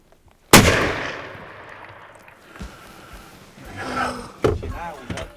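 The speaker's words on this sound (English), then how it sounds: "I think I'm gonna shoot." A single loud hunting rifle shot fired at a deer, a sharp crack followed by a long fading echo, then quieter rustling, a couple of thumps and faint voices.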